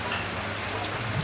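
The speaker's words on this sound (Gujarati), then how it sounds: "ધોધમાર વરસાદ આવી રહ્યો" Steady heavy downpour of rain arriving after a long dry spell, a dense continuous hiss of falling water with no break and no voices.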